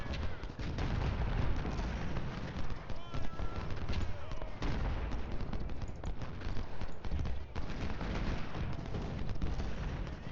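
Dense Civil War battle gunfire in Ultimate General Civil War: continuous crackling musket volleys and heavier artillery booms layered into a loud, unbroken fusillade, with hoofbeats and faint voices mixed underneath.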